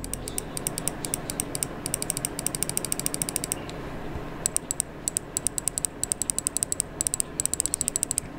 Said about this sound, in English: The scroll wheel itself is fantastic since it doesn't really have any underlying issues and it sounds